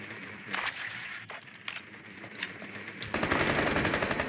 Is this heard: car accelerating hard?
no